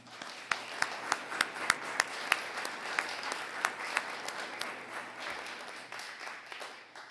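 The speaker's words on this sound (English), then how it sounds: "give them a round of applause" A modest crowd at a Weare, New Hampshire candidates night claps for the town candidates, with distinct, separate hand claps in a fairly quiet hall, steady at first and thinning out toward the end.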